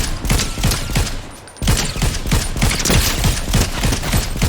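Rapid automatic gunfire from the Fortnite video game rattles in dense, loud bursts, broken by one short pause before firing resumes, with no talk.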